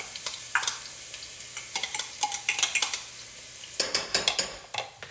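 A small onion sautéing in melted butter in a soup pan: a steady, soft sizzle broken by sharp clicks and scrapes of a utensil stirring against the pan.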